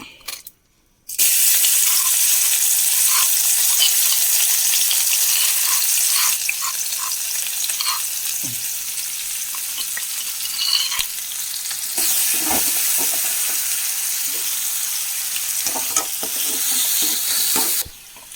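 Loud, continuous sizzling of crushed ingredients, onion among them, dropped into hot coconut oil for a banana-flower and green gram stir-fry, with occasional spoon clinks and bubbling crackles throughout.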